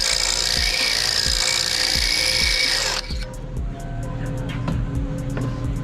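A power drill boring out a part on a Toyota 1UZ V8 engine in an MX32 Cressida, whining loud and steady for about three seconds before cutting off, leaving rhythmic knocks and clatter of the work behind.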